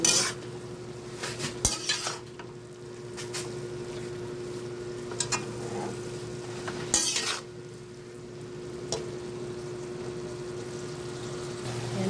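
Mung bean sprouts being stirred in a pan in a simple home kitchen, with a utensil scraping and clinking against the pan in a few distinct strokes over a steady low hum and faint sizzle, close and moderately loud, with no talking.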